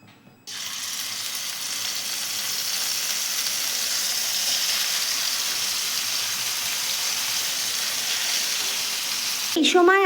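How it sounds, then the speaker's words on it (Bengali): Marinated chicken pieces hit hot mustard oil in a wok and set off a sudden, loud, steady sizzle that holds constant, with a brief voice near the end. "এগুলোকে দিয়ে আমি এপিট ওপিট করে ভালো করে ভেজে নেব"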